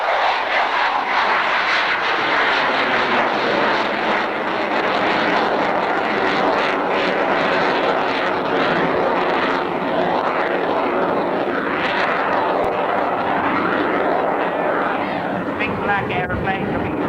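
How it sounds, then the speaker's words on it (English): A loud U-2 jet aircraft roars past continuously during a flying display, its engine noise rising and shifting in pitch as it flies by, with no pauses throughout. "A display of a U-2!"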